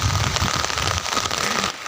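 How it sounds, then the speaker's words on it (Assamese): Light rain patters steadily on a surface outdoors near rice paddy fields being ploughed, a soft, continuous drizzle with no voices. "বৰষুণ দি আছে চিম চিমকৈ"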